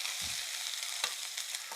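A loud, steady sizzle of ground spice paste frying in hot oil with popped mustard seeds for cabbage thoran, with a brief stirring scrape early on and a few crackles.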